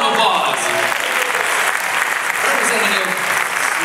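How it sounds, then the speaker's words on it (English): An audience at a political forum in a theater applauds a candidate, a loud, dense, steady wash of clapping from a crowd. "Give a round of applause"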